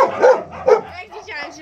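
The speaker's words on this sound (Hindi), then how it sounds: "बाहर डॉगी भौंक रहा है" A dog barks outside in short sharp yips, two prominent barks followed by quieter whimpering and yelping, fairly close and loud.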